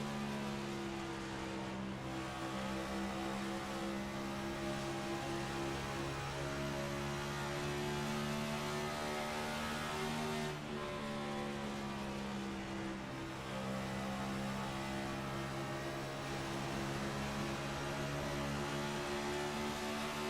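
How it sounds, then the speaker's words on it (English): Onboard roof-camera roar of Adam Brown's race car lapping the Monster Mile oval in a 200-lap race, a continuous loud engine drone with wind rush and slight pitch dips through the turns. "This is from the roof of Adam Brown's car."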